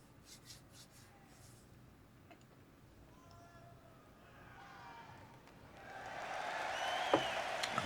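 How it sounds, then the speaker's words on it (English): Crowd noise from a 1974 live concert recording swells from near silence into a broad roar of cheering and applause, growing loud toward the end. "There's the crowd."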